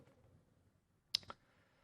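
A single soft mouse click, or a quick pair, opening a selected jar file, short and close in an otherwise quiet room.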